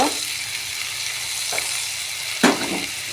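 Cut potatoes dropped into spice paste frying in a pan give a steady hiss, with a couple of sharper stirring scrapes and a louder clatter near the end.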